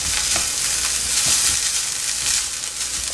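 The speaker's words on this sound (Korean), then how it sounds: "이렇게 볶아주면은 이제 고추기름은 안 나지만 고추가 볶는 냄새가 나니까" Chili flakes frying in a pan over low heat for mapo tofu, a steady close sizzle with soft stirring scrapes and no talk.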